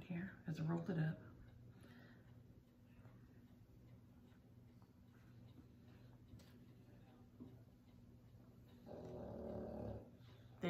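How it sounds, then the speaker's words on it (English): A flat-faced dog snoring loudly indoors: a brief rough burst early, a long quiet stretch, then a sustained raspy snore that swells near the end. "I told y'all he snores so loud."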